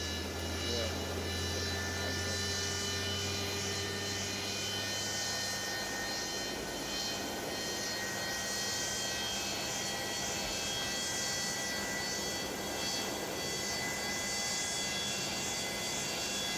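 Jet engine spooling up on a simulated Boeing 727-200F freighter in Microsoft Flight Simulator, a steady broadband roar with sustained whining tones, low rumble fading partway through, continuous and loud.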